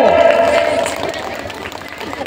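Clapping and cheering rise from an audience at a school annual function as a prize winner is announced, a brief burst of crowd noise that fades slightly over a couple of seconds.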